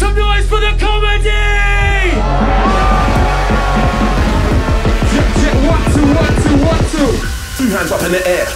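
A festival crowd in London yells and cheers at a drum and bass DJ set. The roar is loud and sustained under an MC's shouting voice, with heavy bass music underneath.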